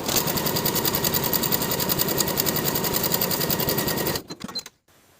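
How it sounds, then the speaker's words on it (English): Close, rapid, evenly pulsing stitching from a sewing machine running a 3/8 inch seam along the raw edge of a pull-on pants waistband, running continuously before slowing and cutting off with a few clicks. "Sew the long raw edge with a 3/8 inch seam allowance"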